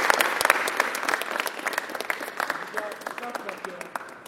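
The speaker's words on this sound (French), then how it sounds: "donc on peut vraiment l'applaudir" Applause from a group at a jiu-jitsu club, sharp individual claps that are loud at first and gradually thin and fade, with a voice speaking over the end.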